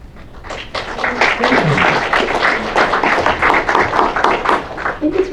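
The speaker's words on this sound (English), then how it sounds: "I think it's really sweet that you're all applauding after every poem" A small audience at a poetry release party in Fresno claps and applauds after a poem reading, a dense, steady burst of many hands that swells and continues for several seconds.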